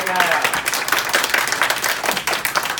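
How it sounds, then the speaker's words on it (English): A school class claps for themselves, a loud burst of many hands clapping in a classroom, with a voice briefly heard at the start over the clapping. "So I want everybody to give yourselves a hand clap."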